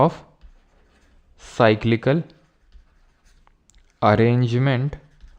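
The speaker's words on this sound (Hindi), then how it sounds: "तो आगे लिख देता हूँ मैं" Handwriting during a lesson on Indian classical music gharanas makes faint scratching strokes in the pauses, between stretches of a teacher talking.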